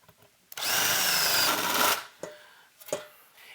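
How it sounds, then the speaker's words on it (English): A power drill bores holes through a metal amplifier chassis for a 6BQ5 amp build. There is one loud, close whining burst of about a second and a half, followed by a few brief clunks and taps. "We have the mounting holes drilled and the grommet holes drilled for all of our iron."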